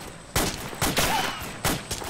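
Bursts of gunfire in the military game Arma 2: Operation Arrowhead, four or five loud close shots spaced unevenly over a steady background hum, with no talking.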